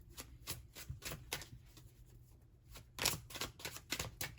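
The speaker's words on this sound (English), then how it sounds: "Let me go ahead and shuffle up the deck really quick." Tarot cards are shuffled in quick, rhythmic riffles, a soft series of papery flutters close by and fairly quiet, with a brief pause midway.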